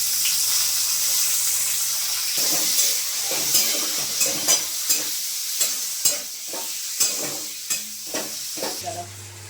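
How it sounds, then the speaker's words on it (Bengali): A large chopped onion fries in hot oil with spices for a Bengali jackfruit and prawn curry, a constant close sizzle broken by a series of rhythmic scraping stirs of a spatula in the pan. "এবার আমি দিয়ে দিচ্ছি একটা বড় সাইজের পেঁয়াজ এবার আমি কেটে রেখেছি এই পেঁয়াজটা আমি দিয়ে দিলাম"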